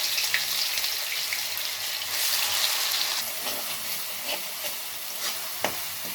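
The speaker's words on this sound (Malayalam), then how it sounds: "വറുത്ത് കോരി എണ്ണയിലേക്ക് തന്നെ നമുക്ക് ഈ അരച്ച മസാല ഇട്ട് കൊടുക്കാം" Ground masala paste hits the hot oil left from frying brinjal, giving a steady soft sizzle with light stirring scrapes, close and moderately quiet, no talking.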